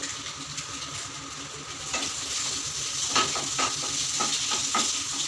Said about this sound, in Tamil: பச்சை வாசம் போகிற வரைக்கும் நல்லா வதக்கிக்கலாம்.